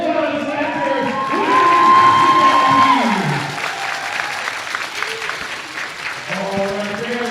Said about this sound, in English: we need everyone to cheer loud and hard for our undefeated Loyalist Lancers